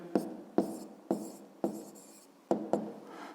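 Pen or chalk writing out a fifth-grade maths answer, a series of about six distinct scratchy strokes with short pauses between them, close and faint, no speech.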